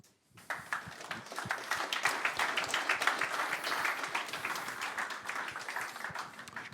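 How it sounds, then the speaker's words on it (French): An audience at a tech talk applauds, clapping starting abruptly and holding as a dense, even round of many hands for several seconds. "On peut applaudir."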